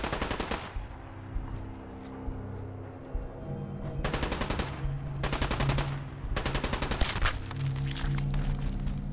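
Video game gunfire in Fallout 4: several bursts of rapid automatic fire, three distinct rattling volleys of closely spaced shots over a background of softer bangs and battle noise.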